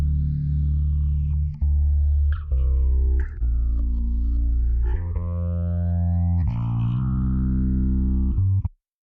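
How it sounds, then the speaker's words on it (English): Synth or bass tone processed through an Arturia phaser plugin from V Collection 8, a sweeping, swirling notch moving up and down over sustained low notes, fairly loud with no voices. "You use a phaser."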